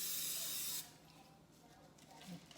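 Cooking spray from a can hisses in one loud burst lasting under a second, then cuts off to quiet room noise, while shrimp and squash pieces are being coated for a casserole.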